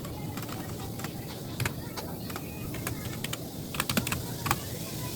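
Rapid keystrokes on a computer keyboard while commands are entered, irregular clusters of sharp clicks including a few heavier key presses, set over a steady low room hum.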